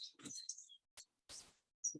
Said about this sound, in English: Deer just walked by, birds are singing.